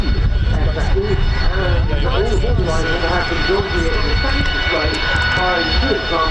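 Harrier jets roar steadily at the Royal International Air Tattoo at RAF Fairford, loud and continuous throughout, with crowd voices and chatter mixed beneath the engine noise.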